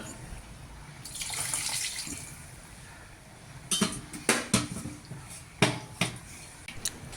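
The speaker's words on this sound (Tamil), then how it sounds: "ஒரு 4 டம்ளர் தண்ணி முதல்ல சேர்த்துக்கலாங்க" Four tumblers of water pour and splash into a large pot for sambar rice, followed by several sharp metallic clinks and knocks of utensils against cookware.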